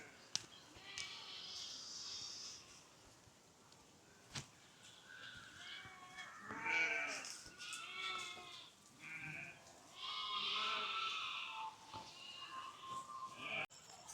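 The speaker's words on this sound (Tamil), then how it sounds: "கோயிலுக்கு அருகாமையில் ஆடுகள் நிற்கிற காணக்கூடியமாக இருக்குது" Goats standing near a temple by Myliddy harbour bleat faintly from a distance outdoors, with several wavering calls over a quiet background and a few sharp knocks.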